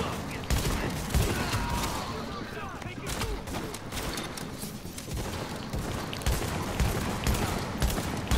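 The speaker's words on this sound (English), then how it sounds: "I forget this is a shotgun sometimes." Shotgun gunfire in the third-person shooter The Division rings out in rapid, repeated loud blasts amid other battle noise, with a person talking over the action.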